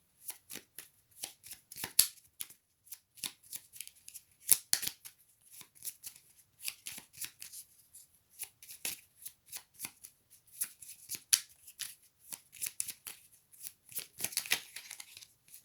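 Tarot cards shuffled by hand, a soft, quiet riffle of crisp papery flicks and slaps in irregular bursts, close up with no voice over it.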